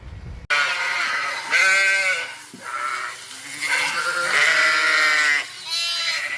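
Several sheep bleat close by, overlapping wavering calls following one another with brief gaps in between.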